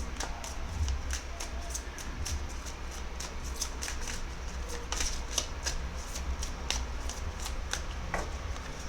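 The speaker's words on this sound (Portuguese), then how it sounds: "Eu sinto de tirar só mais 2 cartas." Tarot cards being shuffled and handled at close range, a steady dense riffle of crisp paper flicks and taps running throughout, with no talking.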